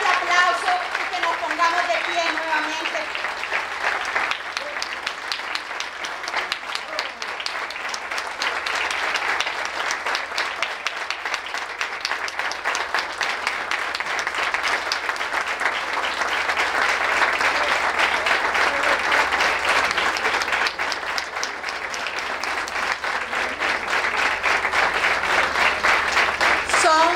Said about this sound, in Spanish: Pido para ellos un fuerte aplauso y que nos pongamos de pie nuevamente.